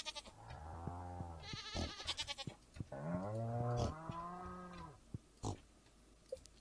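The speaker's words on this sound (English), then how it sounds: "Cows and pigs and sheep." Farm animals in the Stardew Valley video game (cows, pigs and sheep) give several drawn-out bleating and lowing calls in quick succession, quiet and with no talking.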